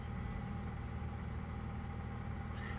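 A 2008 Nissan Sentra with a cold air intake idles steadily with a low, even engine drone, faint and continuous with no voices.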